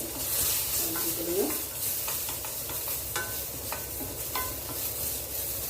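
Ingredients sautéing in a little oil in a pan, making a continuous soft sizzle with intermittent clinks and scrapes of a stirring utensil, close and fairly quiet.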